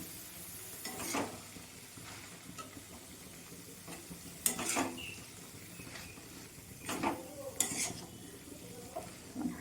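Cucumber and potato hit a pan of spices in a dim Bengali home kitchen for a cucumber and chana dal ghonto, giving a soft sizzle with a few quick scraping stirs, faint and close.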